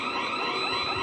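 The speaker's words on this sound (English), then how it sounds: "Your alarm is going off." Alarm going off in a recording studio, a continuous, steady electronic tone sounding throughout a short moment with no voices.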